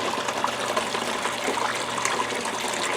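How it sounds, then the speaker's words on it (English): Water gushing hard and continuously through a gold clean-up sluice, a dense close rushing splash at steady loudness with no voices. "I'm pushing water really hard here, even on the top here."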